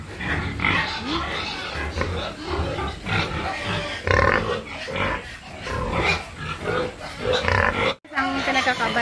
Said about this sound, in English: Mommy pig.